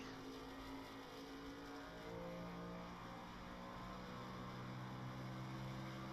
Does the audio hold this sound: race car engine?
yes